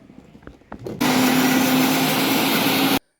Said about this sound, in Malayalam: മിക്സിൻ്റെ പൊടിക്കുന്ന ജാറിലിടുക ജസ്റ്റ് ഒന്ന് പൊടിച്ചെടുക്കുക